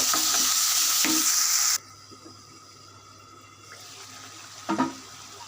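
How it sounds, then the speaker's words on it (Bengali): A paste of onion, garlic, ginger and cumin with chili and turmeric sautés in a pan. A strong sizzle with stirring cuts out abruptly, goes quiet, then returns with scraping clinks near the end. "মরিচ হলুদ এটা এখন আমি ভালো করে কষিয়ে নেব"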